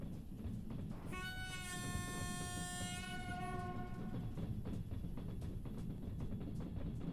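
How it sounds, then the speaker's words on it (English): In the Trans-Siberian Railway Simulator game, a passing train sounds a long, steady horn blast over a constant low rumble of rolling wagons, which carries on after the horn stops. "Oh, we got a train coming through."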